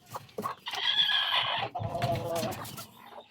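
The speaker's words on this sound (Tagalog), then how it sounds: "Yan, malaking manok yan." Chickens cluck and call close by in a quiet setting, with a few short clucks giving way to longer, drawn-out vocalizations from large gamefowl.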